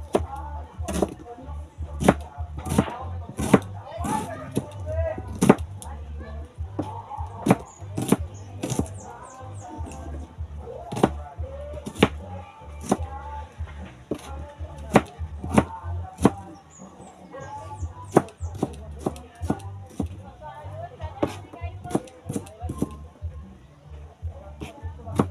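Onions being chopped on a board in a home kitchen, a long run of sharp, evenly paced knife strikes close by over low background noise.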